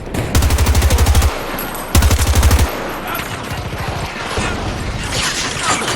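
LMG machine gun fire in Battlefield 2042, two rapid bursts of about a second each with a fast, even rhythm, followed by mechanical clicks of handling and reloading, with no talk.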